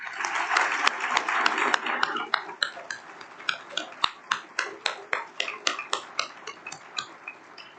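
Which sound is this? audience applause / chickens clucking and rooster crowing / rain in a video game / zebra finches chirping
audience applause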